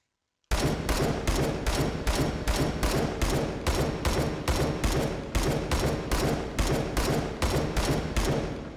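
A SCAR rifle fired semi-automatically in H3VR, the virtual reality shooting game: a steady string of about twenty loud, sharp, evenly spaced shots, close up and with no talking.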